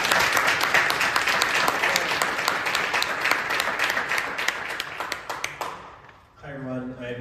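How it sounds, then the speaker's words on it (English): An audience applauds panelists after a policy discussion panel, a steady wash of many hands clapping that fades out after about six seconds, followed by a voice beginning to speak. "let's give a round of applause for our panelists"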